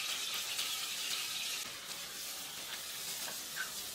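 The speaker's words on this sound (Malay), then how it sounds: "Tumiskan bawang yang telah pun kita kisarkan awal tadi." Blended onions sautéing in hot oil as the base for a sambal, giving a steady, close, bright sizzle that holds evenly throughout with no voices.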